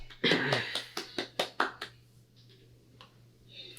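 Hands clapping during a podcast recording, a short run of about seven sharp, evenly spaced claps close to the microphone, followed by quiet room tone with a faint hum and a few soft clicks.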